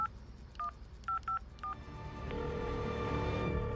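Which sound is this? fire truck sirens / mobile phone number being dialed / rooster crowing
mobile phone number being dialed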